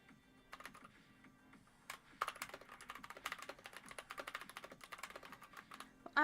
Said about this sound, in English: I'm just typing something on another screen really quickly